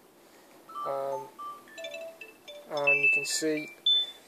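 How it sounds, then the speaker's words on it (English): A phone chimes with a short series of bright electronic notification tones, clear and close, while someone talks over them. "excuse my phone"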